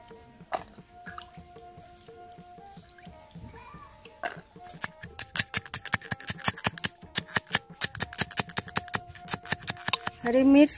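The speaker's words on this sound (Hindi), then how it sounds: "हरी मिर्च कूटना हो गया।" Green chilies and garlic are pounded by hand for a traditional Tripuri dish, starting as sparse taps and building into a fast, dense run of sharp, close strikes, with a voice briefly heard near the start.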